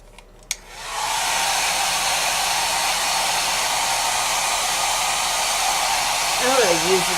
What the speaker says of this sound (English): Pull up my little blow dryer here.